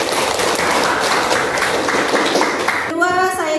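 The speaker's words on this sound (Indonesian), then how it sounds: "Oke, beri tepuk tangan." A classroom of students claps together at a teacher's prompt, a dense burst of applause lasting a few seconds before a voice begins speaking.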